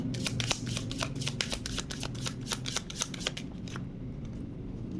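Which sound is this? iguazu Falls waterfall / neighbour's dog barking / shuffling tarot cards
shuffling tarot cards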